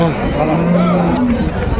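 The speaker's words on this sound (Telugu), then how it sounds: "ఇక్కడ కూడా మనకు జెర్సీ ఆవు అయితే ఉంది" A Jersey cow gives a long, drawn-out moo close by amid a busy outdoor cattle market crowd in Palamaner, with people chattering in the background.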